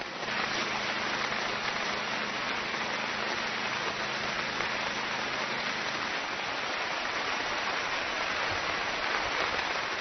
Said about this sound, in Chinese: 大雨太大了